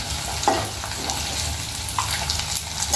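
Sliced onions frying in a pan for chicken fry, giving a steady, close sizzle with a few brief scraping stirs, no voices.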